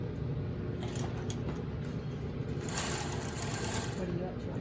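Sewing machine running steadily while stitching a 5/8 seam on the front of a garment yoke, a continuous close mechanical whir with faint talking mixed underneath.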